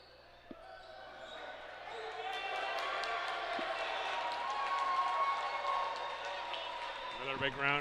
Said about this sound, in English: Another big round of applause here for Sam